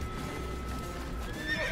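A horse whinnies in the Assassin's Creed video game, a rising, fairly clear neigh near the end of the clip over a steady game background hum.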